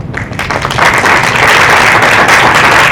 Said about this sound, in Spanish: Palmas para la magíster Andrea Chanó Manrique